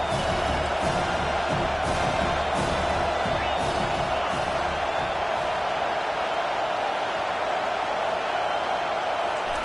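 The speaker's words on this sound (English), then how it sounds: "This crowd trying to make life miserable for this offense." Crowd noise at a High Octane Football League game, a broad, constant roar from the stadium stands with scattered thumps early on, filling the whole span loudly and evenly.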